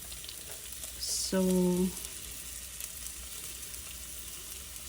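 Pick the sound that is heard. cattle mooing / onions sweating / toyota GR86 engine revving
onions sweating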